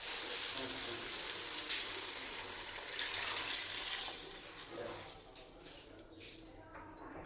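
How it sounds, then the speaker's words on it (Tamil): Coconut milk is poured into chicken gravy in a pan, giving a steady, hissing liquid rush that fades toward the end. "தேங்காய் பாலை வந்து இப்போ இந்த ஸ்டேஜில் வந்து நம்ம வந்து ஊற்றிக்கலாம்"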